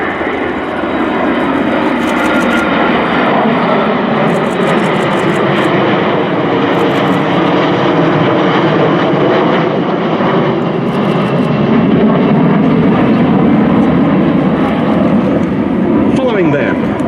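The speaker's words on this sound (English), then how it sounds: "In the lead, the Boeing RC-135W rivet joint from number 51 Squadron at RAF Waddington." A formation of military jets flies past at an airshow, led by a Boeing RC-135W Rivet Joint with NATO fighters in company, a loud continuous jet roar that swells and rumbles steadily throughout, with a commentator talking over it.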